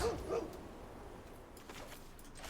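A short dog bark and yip sound effect from the MTG Arena card game, a couple of quick barks at the start and then faint game sounds behind them.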